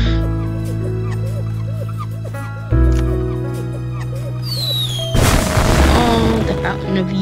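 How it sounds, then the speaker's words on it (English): Fireworks bursting in a life-simulation video game on a farm, heard over steady game music: a rising whistle followed by a loud crackling explosion near the end, with an earlier deep boom. "Look, Emily, fireworks."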